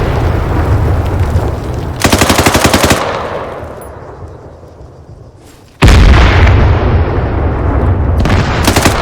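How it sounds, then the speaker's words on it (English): Gunfire and blasts in Arma 3 combat: dense machine-gun bursts, a heavy boom that rolls off into a long decaying rumble, then another loud explosion followed by more rapid fire. "Secondary explosion."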